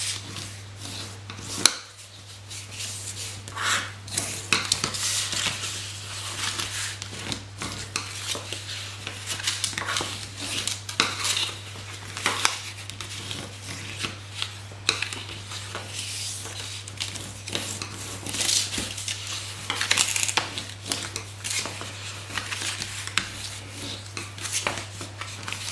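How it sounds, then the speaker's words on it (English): Cardstock being folded and burnished along score lines with a tool, steady close rubbing and scraping strokes repeated over a constant low hum, no voices. "Got quite a lot of lines to fold and burnish."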